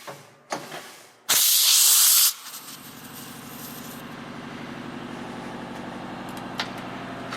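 Compressed air hisses into a patched and plugged flat tire being filled to 40 psi: a loud, sharp second-long blast of hiss, then a steady lower mechanical drone running underneath to the end.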